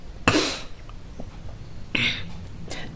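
A person coughs in two distinct bursts, a loud harsh one near the start and a second shorter one about a second and a half later, with quiet breathing and room noise between them.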